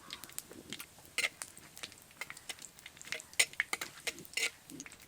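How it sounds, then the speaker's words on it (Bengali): Panch phoron, bay leaf and dry chili crackling in mustard oil in a kadai, faint scattered pops and spits with a few sharp sputters, quiet and intermittent. "কড়াইতে পরিমাণ মতো সর্ষের তেল দেব। তেলের মধ্যে দিয়ে দেবো 5 ফোড়ন খুব সামান্য পরিমাণ, তেজপাতা শুকনো লঙ্কা দেব।"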